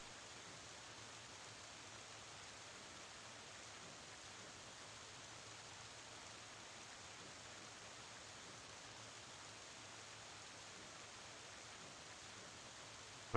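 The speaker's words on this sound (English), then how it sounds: "we can skip this rain song" Soft, steady rain noise playing as a background track, a constant even hiss with no change across the whole stretch and no talk.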